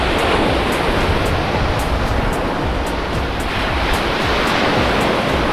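Ocean waves breaking and washing up on a Florida beach at low tide, a steady, loud roar of surf filling the whole span with no voices.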